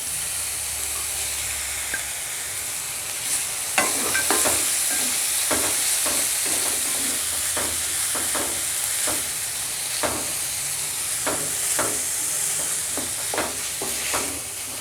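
Cut tomato pieces frying in a pan for boti charu, a steady sizzle under repeated sharp scraping strokes of a spoon against the pan, fairly close and continuous.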